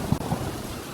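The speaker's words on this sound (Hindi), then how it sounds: "मूसलाधार बारिश है, आज रात को नहीं रुकेगी।" Heavy torrential rain pours steadily at night, a dense continuous wash of downpour with a low rumble early on, no voices.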